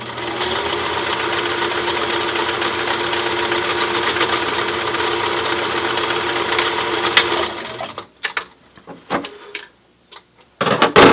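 A sewing machine top stitching a cloth face mask, running in a steady rapid mechanical whir for about eight seconds, then stopping into short bursts and pauses with small clicks, close and loud.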